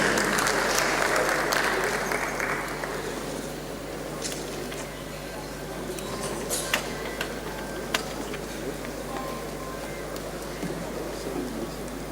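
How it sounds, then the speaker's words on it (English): Audience applause for Taiwo Oyadero of PricewaterhouseCoopers at a governor's annual town hall meeting on security, a steady patter of many hands with a few murmured voices underneath. "Please welcome him with a round of applause."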